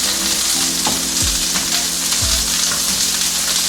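Chicken sautéing in a hot pan gives off a loud, dense, continuous sizzle up close, with a couple of low scraping stirs cutting through and no voices.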